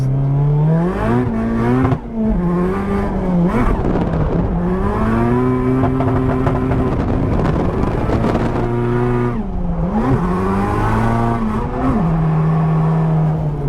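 A drift car's engine revs hard through a qualifying lap, loud and close, climbing through the gears with repeated upshifts, brief lift-offs and re-accelerations, with no voices.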